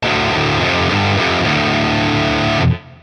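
A distorted electric guitar in Drop D tuning plays a riff without palm muting. Open, ringing power chords come out loud and sustained, then cut off abruptly near the end.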